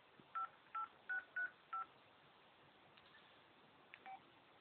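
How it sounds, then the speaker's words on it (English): Dial pad keys on a Samsung SCH-u940 Glyde phone for Verizon Wireless produce five short evenly spaced touch tones, then two fainter ones, clean and quiet with no talking. "Dial pad, of course, for placing calls."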